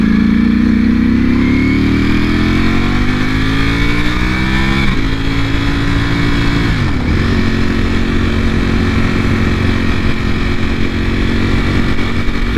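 A 2020 Ducati Panigale V4 R roars under the rider on a short Sunday ride, loud and close, its engine pitch rising through the gears with brief dips at each shift, wind noise steady throughout.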